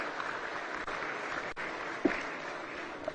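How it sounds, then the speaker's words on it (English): An audience at a national honours and awards ceremony applauds a youth choir, a short, moderate patter of clapping heard at a distance in a large room. "Round of applause."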